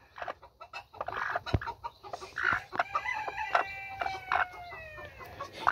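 A hen in a poultry yard squawks and clucks loudly and repeatedly, close by, in bursts of harsh calls with short pauses, other fowl faintly audible in the background.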